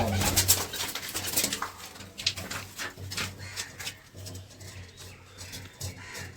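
Pigeons coo repeatedly in low, throaty bursts, close by, with faint rustling and flutter in the background.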